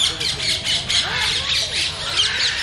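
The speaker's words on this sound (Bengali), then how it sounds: "কতগুলো টিয়া পাখি এখানে আছে" Parrots in a zoo enclosure squawk repeatedly in harsh, rising-and-falling calls, overlapping one another at moderate distance while a person talks over them.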